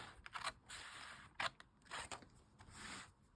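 Scissors snip paper off a junk journal page in a few short, quiet, crisp cuts spaced apart, close up with soft rustling between them.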